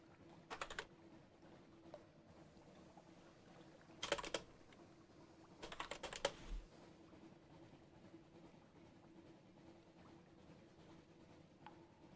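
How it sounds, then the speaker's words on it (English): Quick, faint bursts of typing on a computer keyboard, three short clusters of clicks over a low steady room hum, no talk. "I was typing in another window"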